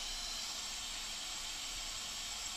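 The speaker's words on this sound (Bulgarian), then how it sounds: "Мултикукърът току-що изписука и започна сам да си изпуска парата" Steam hisses steadily from the pressure release valve of a Tefal Cook4me multicooker after it beeps, a constant airy rush with no pauses.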